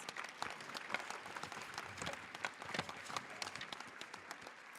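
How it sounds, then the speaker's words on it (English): A round of applause for the winners at a Latino youth conference, a crowd clapping steadily with scattered sharp claps, heard from some distance and fairly quiet. "Let's give them all another round of applause."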